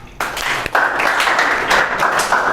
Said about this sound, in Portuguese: Palmas para Daniel.